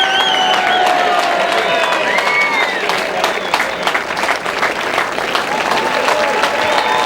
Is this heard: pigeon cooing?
no